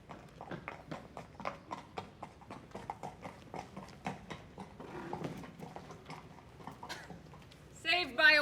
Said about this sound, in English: More of the horses are heading this way!